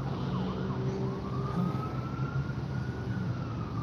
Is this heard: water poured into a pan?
no